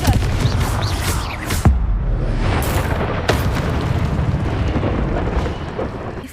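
Confringo fire spell explosions in the video game Hogwarts Legacy, with several loud booming blasts and sharp bursts over a steady rumbling background of combat noise.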